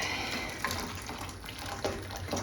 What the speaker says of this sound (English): which just makes it a bit easier to dip this in and out of the water.